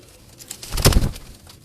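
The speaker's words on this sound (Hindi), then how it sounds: "ये जी बेबी पिजन्स है इसी कबूतर की" Baby pigeons in a loft making a brief close cooing burst that peaks in the middle and fades quickly, with faint flutter around it.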